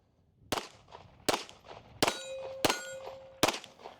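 Pistol rounds striking painted steel targets at a shooting range, five sharp metallic clangs spaced about a second apart with ringing tones that linger between hits, the shots themselves faint.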